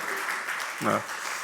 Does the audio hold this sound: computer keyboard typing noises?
no